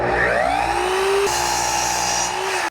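Miter saw making a 30-degree cut through wood, a steady loud whining motor drone that holds for nearly three seconds with a pitch change midway, then stops abruptly.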